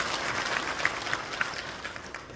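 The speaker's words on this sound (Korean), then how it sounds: "박수 한번 쳐주시면 감사하겠습니다." A congregation at a church inauguration service for a new chairman applauds, an even wash of many clapping hands, moderately loud, fading slightly toward the end.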